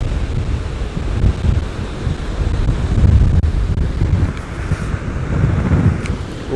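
Very strong wind buffets the microphone at a Black Sea beach in Vityazevo near Anapa, with stormy surf rolling underneath in a loud, continuous roar that swells and eases throughout, and no voices.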